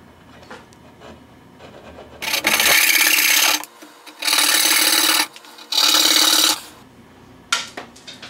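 A chisel clears waste from a hand-cut wooden dovetail on a drawer, giving three sustained rasping scrapes of similar length separated by short pauses, close and fairly loud, followed by a brief knock at the end.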